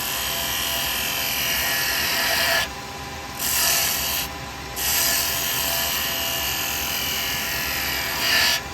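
A carbide chisel cuts wood spinning on a lathe, a loud continuous rasping scrape broken by a few short pauses as the tool lifts off and returns.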